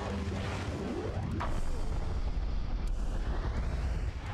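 A dark bomb area attack explosion in the video game Jak 3, fought on platforms over lava, heard as a loud, dense roaring blast that keeps rumbling steadily throughout.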